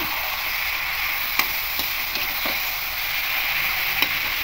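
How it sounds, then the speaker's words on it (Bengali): Marinated chicken sizzles steadily in a hot pan for a coconut chicken dish, with a continuous frying hiss and a few sharp clicks of stirring, and no talk. "এবার এই চিকেনটা এখানে পুরোটাই দিয়ে দেবো। দিয়ে খুব ভালো করে মিশিয়ে নেব।"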